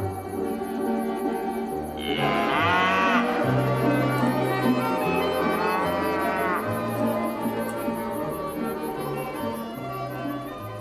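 A cow moos loudly twice in a village setting, two long drawn-out bellows over a steady low rural background.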